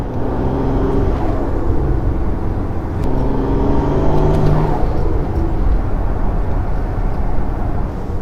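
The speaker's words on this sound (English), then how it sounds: "The turbo sound." The turbocharged engine of a Mercedes-Maybach Brabus S650 gives a loud, continuous low rumble with a faint whining tone riding over it.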